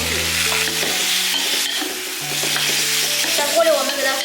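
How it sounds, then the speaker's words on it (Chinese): Pineapple chunks with red and green peppers are stir-fried in an oiled wok: a loud, continuous sizzle with a spatula tossing and scraping. Soft background music runs underneath. "在锅里我们给它翻炒至断生"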